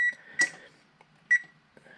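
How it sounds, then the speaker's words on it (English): A kitchen timer gives a few short, quiet electronic beeps in a home kitchen while pizza dough proofs. The beeps are spaced apart with silence between them. "I forgot to turn my timer off."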